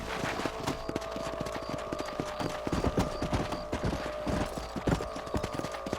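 Horse hooves clip-clopping in the video game Red Dead Redemption, a steady, even rhythm of hoof beats close by with a faint background hum, no talk.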